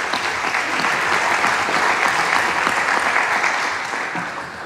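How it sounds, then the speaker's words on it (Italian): A hall audience in Rome applauds to welcome the university rector, dense, continuous clapping from many people holding steady for several seconds before tapering a little. "Accogliamolo con un applauso"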